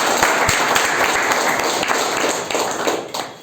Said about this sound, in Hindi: एक ताली बजाओ जोरदार।